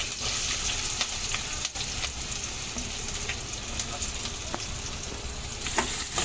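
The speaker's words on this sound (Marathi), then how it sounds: "कांद्याक मस्तपैकी घेऊया भाजून." Onion frying in hot oil in a kadhai with ajwain, cumin and curry leaves, a dense continuous sizzle and crackle at steady level, with occasional stirring clicks.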